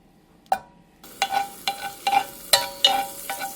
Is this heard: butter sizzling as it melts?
yes